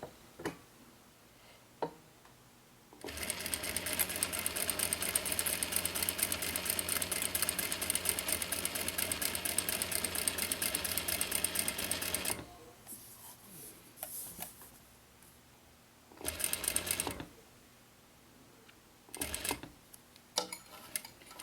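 A sewing machine stitches a mini box tote at a stitch length of about 3, running in one long, steady rhythmic burst of rapid ticking, then stopping, followed by two shorter separate stitching runs with quiet pauses between.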